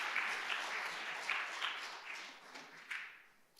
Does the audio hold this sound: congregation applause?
yes